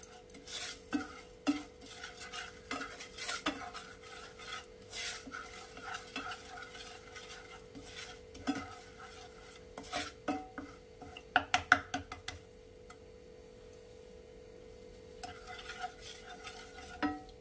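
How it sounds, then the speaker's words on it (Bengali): Melting sugar being stirred slowly in a pan for caramel: quiet intermittent scraping and spoon taps against metal, with a soft background hum and a brief cluster of sharper knocks near the end. "এই যে চিনিটা গলতে শুরু করেছে, এবারে আমি আস্তে আস্তে নাড়া দেবো।"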